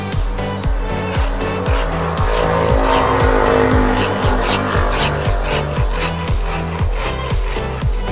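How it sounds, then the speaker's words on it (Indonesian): Cutting through a Streblus asper (serut) bonsai branch with a saw, a steady back-and-forth rasping rhythm of repeated strokes, loud and close, with no talking. "Oke, lihat, perhatikan ini, langsung akan saya potong nih teman-teman."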